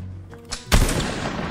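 A single loud, sharp gunshot from a black-powder era musket in a multiplayer combat video game, cracking suddenly after a quiet lead-in and leaving a long, noisy decaying tail.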